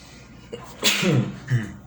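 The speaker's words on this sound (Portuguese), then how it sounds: "Bem que esse espirro poderia vir bem depois, né?" A single sharp, loud sneeze from a man with a cold who is teaching a lesson. A brief intake comes before it, and a smaller breathy sound follows.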